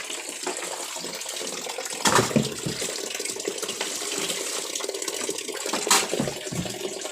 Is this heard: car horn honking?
no